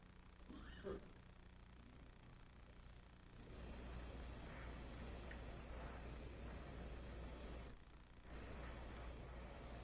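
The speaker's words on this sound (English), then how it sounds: "With the black, I'm not going to spray very much." An airbrush sprays black paint for a light shadow line on a hummingbird house, a steady loud hiss that starts after a quiet stretch, breaks off briefly, then resumes, with faint talk early on.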